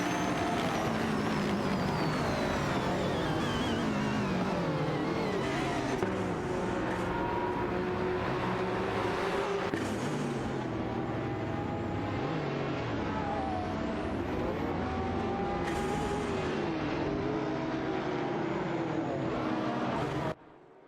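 Race cars roar through a racing video game, including a McLaren and Jaguar CSS75s, engines whining and shifting pitch continuously as cars battle for position, loud and sustained before cutting off abruptly at the end.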